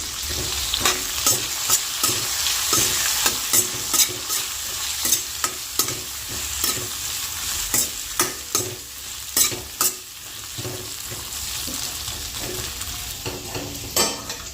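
Potato chaklis frying in a pan with garlic chutney: close, rhythmic scraping strokes of stirring repeat over a continuous sizzle of hot oil.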